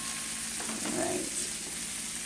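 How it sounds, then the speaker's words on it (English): Cauliflower fries in a pan with a soft, continuous sizzle and crackle, fairly quiet and close, with a brief stir-like shuffle in the middle. "Hear it sizzling away."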